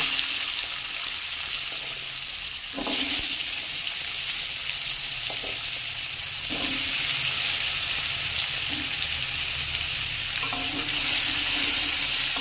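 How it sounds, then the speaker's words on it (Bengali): Potato pieces fry in hot oil with a loud, dense, continuous sizzle, close up and unbroken, with a few faint knocks of a utensil now and then. "আলুটা ভেজে নেব"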